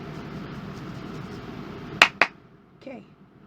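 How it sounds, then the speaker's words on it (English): Two sharp hand claps land close to the microphone in quick succession, loud and crisp against a quiet room murmur, followed by a brief soft voice. "I need to stop clapping"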